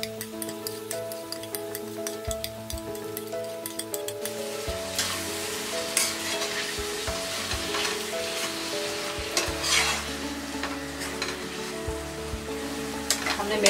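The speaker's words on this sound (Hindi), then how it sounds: "हमने मेथी को 5 मिनट तक मीडियम फ्लेम में फ्राई कर लिया है।" Fenugreek leaves frying with softened onion and tomato in a pan over a medium flame, a steady sizzle with scraping stirring strokes throughout, under background music.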